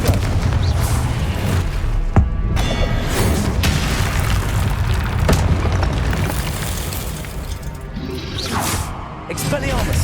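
A Confringo explosion spell in Hogwarts Legacy, with loud booming blasts and whooshing impacts overlapping in a dense, continuous barrage, with voices talking over the action.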